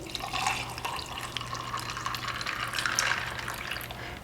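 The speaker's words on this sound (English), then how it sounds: "You're gonna pour in your coffee." Cold brew coffee pours into a cup of ice, a soft, close trickle and splash of liquid with light clinks, steady for a few seconds and fairly faint, with no talking.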